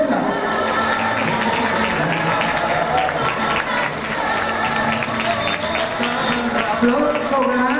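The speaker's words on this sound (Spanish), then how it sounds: "Aplauso grande, por favor," A crowd at a shopping plaza applauds telenovela actor Marco Uriel at a handprint ceremony, dense continuous clapping and cheering for several seconds with voices and a loudspeaker mixed in.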